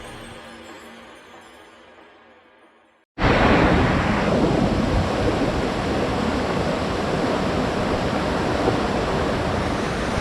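The San Francisco (Vicachá) river runs through its mountain ravine with a loud, steady broadband rush that starts abruptly after a quiet opening and continues without a break.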